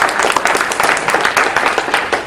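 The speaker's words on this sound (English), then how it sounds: "Give them a round of applause as well." A round of applause from an audience at a speaker training event, dense steady clapping from many hands that stays loud and even throughout with no talk over it.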